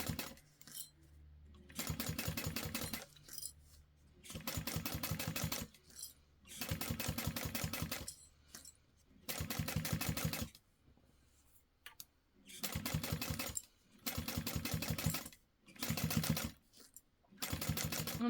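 A sewing machine top-stitches a curve on a fabric book project, running in about seven separate bursts of rapid steady needle chatter with short quiet pauses between them, close up and with no talk.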